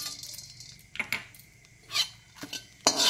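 Whole garam masala and two bay leaves are stirred in hot ghee in a pan, giving scattered metallic clinks and scrapes of a spatula at irregular intervals, with only a faint background hum between them.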